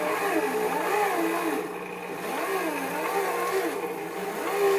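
A Hamilton Beach 63325 stand mixer kneads bread dough with a bread hook, the motor's pitch rising and falling in a steady labouring cycle as the load shifts, loud and close with no talking.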